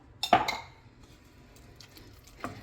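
A spoonful of pesto goes into macaroni and cheese in a pot, making one close clink of a spoon against the metal, then quiet, then a fainter second knock near the end.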